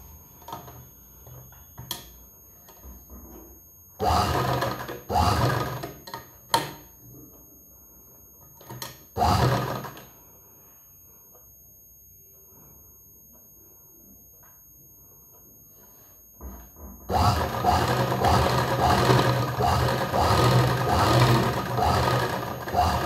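A sewing machine stitching the lining of a katori blouse runs in short loud bursts, then one long steady run at the end, with quiet gaps and small handling clicks between.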